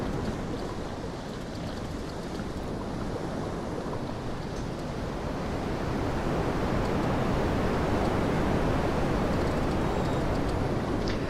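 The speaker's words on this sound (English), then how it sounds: "The water effect, now that it's a little bit better in the open ocean, is great as well" Open-ocean water and waves rushing around a sailboat in the VR sailing game MarineVerse, a steady broadband wash that swells slightly louder toward the end, with no voices.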